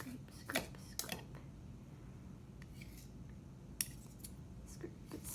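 A spoon scraping sourdough starter out of a container, a few faint, short scrapes and clicks spread over quiet background, with soft voice sounds.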